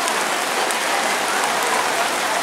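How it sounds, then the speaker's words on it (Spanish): Heavy rain pours steadily during an outdoor civic parade for September 15, a dense, even hiss of drops striking surfaces throughout, with no voices. "Bueno, y la lluvia sigue cayendo fuerte."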